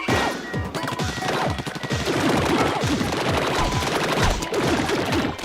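Rapid weapon fire in the video game Splatoon, a dense burst of repeated shots and splattering impacts running continuously and loudly throughout, with no talk over it.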